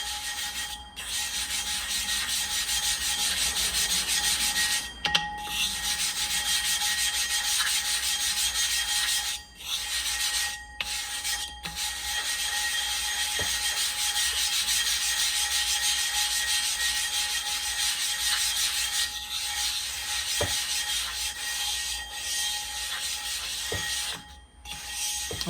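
Grit being spread by hand across the charging wheel of a Nebraska Blades clipper blade sharpening machine, a steady close rubbing and scraping that continues almost unbroken, with a few short pauses and light ticks.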